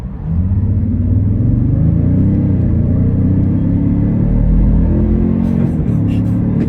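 Toyota Sequoia engine under full throttle, a loud, steady low rumble that builds as the vehicle accelerates hard on a road, heard from inside the cabin with no talk.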